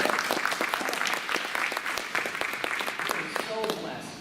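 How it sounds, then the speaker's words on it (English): A church congregation claps for the band during an evening service, with sharp, close hand claps over a crowd's applause and some cheering, and a voice speaking near the end. "The band sounds amazing tonight."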